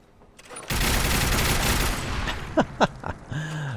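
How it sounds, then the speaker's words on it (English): A Peppermill crank gun fires in Fallout 4 as a sustained, loud burst of rapid shots lasting over a second. A few separate heavy thumps follow, then a lower mechanical whir. "Because when you fire, it jerks all over the place."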